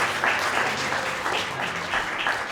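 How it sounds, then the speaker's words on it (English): An audience applauds during a costumed historical portrayal of Paul Revere. Steady, even clapping from many people fills the room at moderate loudness for a couple of seconds, with no voices over it. "How about a round of applause?"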